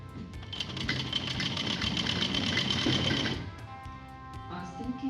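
Sewing machine stitching an Afghani salwar runs steadily and close for about three seconds, then stops, leaving quiet room sound with a faint voice afterward.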